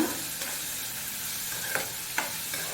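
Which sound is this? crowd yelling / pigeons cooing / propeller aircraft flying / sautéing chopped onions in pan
sautéing chopped onions in pan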